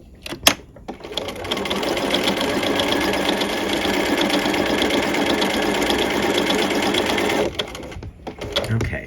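A sewing machine stitching canvas layered with organza, a close, steady rapid whirring run of about six seconds framed by a few handling clicks and brief pauses.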